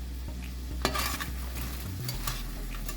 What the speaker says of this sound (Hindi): सारी फ्राइज़ डाल देंगे और इसे हम टॉस कर लेंगे